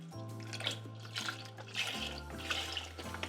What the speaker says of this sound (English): Deglaze with some vegetable stock